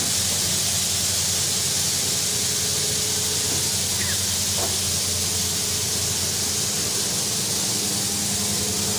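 A 100 kg washing powder mixer machine in a small detergent production setup runs with a loud, steady broadband hiss and low mechanical hum, constant throughout with no talking.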